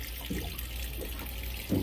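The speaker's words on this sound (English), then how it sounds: "now I'm gonna turn on the faucet." A faucet on a Sea Ray 380 Sundancer boat runs water steadily with a soft hiss, over a low constant hum, with a few brief gurgling surges.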